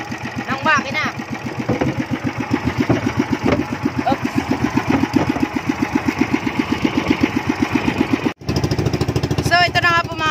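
A small fishing boat engine runs with a steady, rapid chugging pulse, close and fairly loud, with a brief dropout near the end and voices faintly mixed in.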